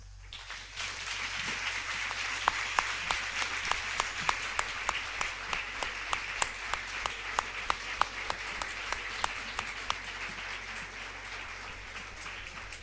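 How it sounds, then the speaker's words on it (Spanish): Spontaneous ovation from a literary café audience, a long, sustained round of many hands clapping at a fairly even level, with sharper individual claps standing out throughout and faint voices underneath. "La ovación espontánea nos ayuda a salir un poquito del trance"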